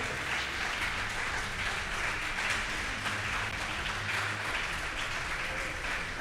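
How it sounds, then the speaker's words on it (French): A studio audience claps steadily for the two school team captains at a televised quiz between Collège Saint-Pierre and Collège Saint-Louis de Bourdon, a continuous even wash of applause heard from a moderate distance. "Sous vos applaudissements, s'il vous plaît."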